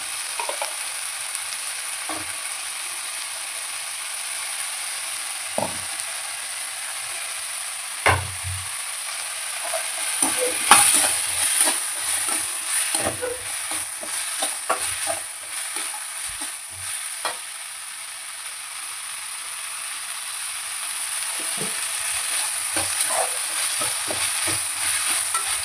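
Radish pieces sautéing in a pan for mullangi sambar, a steady sizzle broken by scattered scraping stirs and knocks of a spoon, close and fairly loud with no voices.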